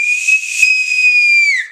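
A loud, piercing finger whistle made with index finger and thumb, one sustained steady tone held for under two seconds before dropping off at the end, alone with no talk.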